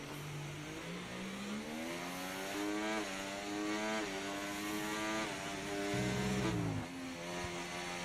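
A race car engine in the F1 24 video game at the China circuit, revving up through rising gear changes with a brief downshift before climbing again, steady and close with no voices.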